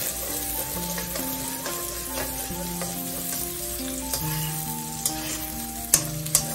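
Vegetable fried rice stirred and fried in a pan over a full flame, a steady close sizzle running throughout with a few sharper scraping clicks near the end, over a faint background tune.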